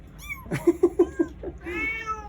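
A cat meows several times in quick succession, short rhythmic mews close by, followed by a longer drawn-out meow.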